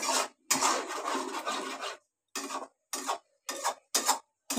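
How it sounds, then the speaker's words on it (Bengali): A spoon scrapes and rubs through green tomato mash cooked with green chili paste and sugar in a kadai, first in one long stroke and then in several short, evenly spaced strokes, close and with no talking. "এবার ভালো করে কাঁচা লঙ্কা পেস্ট দিয়ে চিনি দিয়ে ভালো করে এবার এটাকে নাড়তে হবে"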